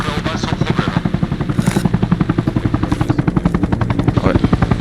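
An attack helicopter in a military shooter game thunders with loud, fast, steady rotor chops close by, with brief bursts of other game noise on top.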